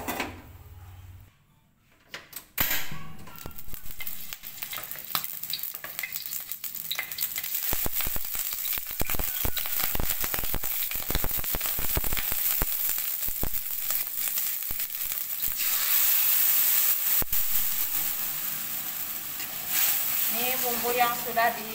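Chicken skin and blended spice paste frying in a pan: a steady, loud, crackling sizzle that starts after a short quieter opening and continues with stirring and scraping.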